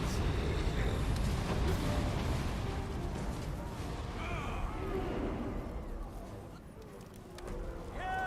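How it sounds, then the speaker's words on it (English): Cannon volleys in the video game Guild Wars 2, a dense, loud barrage of booming blasts and battle noise that rolls continuously before easing slightly near the end. "Fire all cannons."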